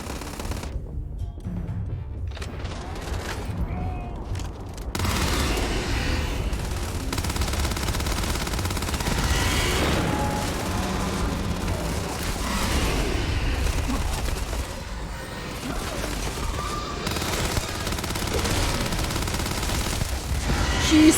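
Sustained gunfire from a gun in the Starfield video game, long rapid volleys of shots with booming impacts running for about twenty seconds, a brief lull near five seconds, with faint talk underneath at times.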